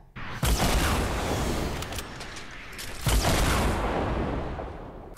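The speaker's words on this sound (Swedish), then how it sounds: "Nej, jag pepprar ju massa med skott." Fortnite gameplay gunfire crackles in two dense bursts of rapid shots, loud and close, each burst followed by a rumbling booming decay.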